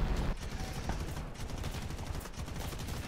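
Rapid bursts of gunfire and cannon shots from tanks in the War Thunder combat game, a dense, continuous barrage of overlapping shots with sharp transients throughout.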